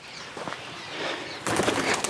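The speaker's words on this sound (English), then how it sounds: "Got scared by a pigeon." A startled pigeon flaps its wings beneath a bridge, a soft fluttering burst followed by a louder, closer flurry of wingbeats over a quiet outdoor background.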